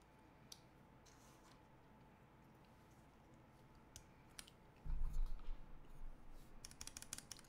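Mechanical keyboard switches with keycaps pressed by hand, scattered faint clicks and taps, then a short louder burst of clacking and rattling near the end, quiet and close.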